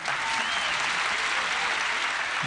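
Audience applause at a livestreamed startup pitch event, a dense steady wash of many hands clapping at once, fairly loud and sustained throughout with no voices over it.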